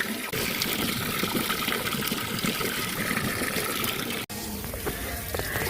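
Water gushing from a pipe to fill a fish tank during cleaning, a steady loud splashing pour that runs continuously with one brief dropout near the end.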